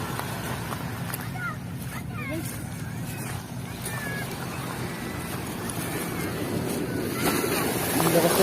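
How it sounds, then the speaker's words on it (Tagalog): Strong ocean waves churning around a small boat near rocks, a steady rushing wash of water with wind buffeting the microphone, swelling louder toward the end while people talk over it. "Ang lakas ng alon."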